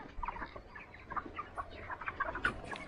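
Chickens in a poultry house cluck softly and intermittently, several birds murmuring at moderate distance in a quiet barn.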